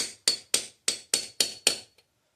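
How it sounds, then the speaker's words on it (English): Seven small hammer taps strike in an even, quick rhythm, each a sharp close metallic tick that rings briefly, then silence. "Give little tiny taps."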